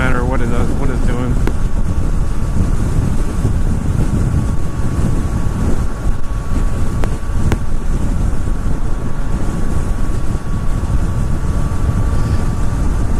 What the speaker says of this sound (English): a little bit windy too, actually